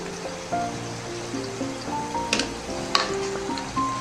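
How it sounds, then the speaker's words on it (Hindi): Milk for rice kheer boils in a pot with a soft bubbling, sizzling texture and a few sharper pops, close and fairly quiet. "तो देखिए फ्रेंड्स, ये हमारे दूध में अच्छा सा उबाल आ गया है।"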